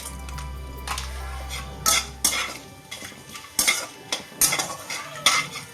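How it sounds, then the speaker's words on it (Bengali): A spoon scrapes and clinks against a pot as whole spices such as black peppercorns are stirred for matar pulao. The scrapes come in irregular bursts over a low hum, with no talking. "নেড়ে চেড়ে নেব।"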